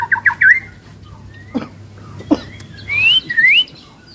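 Caged songbird at a bird kiosk sings in bright whistled phrases and chirps, with a burst of notes early, a couple of sharp calls in the middle and a long rising-falling whistle near the end, clear and close.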